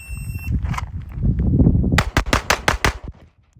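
Six sharp gunshots crack in quick succession during a timed shooting drill with a micro red-dot optic, loud and close, following a stretch of muffled rustling and shuffling.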